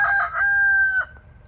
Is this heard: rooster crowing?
yes